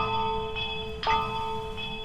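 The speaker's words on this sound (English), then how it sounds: "I have to ring the bell 3 times." A bell in the ghost-hunting video game Phasmophobia is rung three times, each strike clear and close with long, humming metallic ringing that carries over the steady game ambience. No one speaks.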